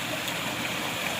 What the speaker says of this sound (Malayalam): ഈ വെള്ളം വരുന്നത് കണ്ടില്ല.